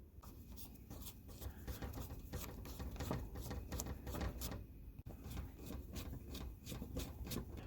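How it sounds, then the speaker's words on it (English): A Phillips head screwdriver backs screws out of a screen door latch handle lock, giving soft, steady scraping and ticking turns at close range with no voices. "let me grab my Phillips head and let's get those two screws out of there"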